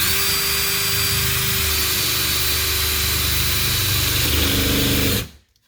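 A power drill with a hole-cutting bit grinding a circle through EVA foam down to the wood beneath, a loud continuous whirring drone holding steady for several seconds before cutting off abruptly.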